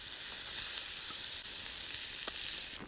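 Potatoes and onion frying in a pan at a solo wild camp, a dense, steady, close sizzle with a couple of faint stirring scrapes underneath, holding level until it drops off at the very end.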